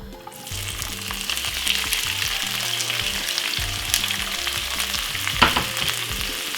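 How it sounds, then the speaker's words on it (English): Seasoned vegetables for corned beef and cabbage fry in a pan, a loud continuous sizzle with stirring scrapes and one sharper clatter near the end. "what we're gonna do is to fry off all our seasoned veg and everything"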